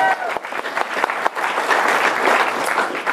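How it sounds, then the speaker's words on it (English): Applause from an audience at a university talks event, a brisk, fairly close burst of clapping that swells and holds steady for a few seconds, with some voices mixed in. "Clap if you think we should do it again next year"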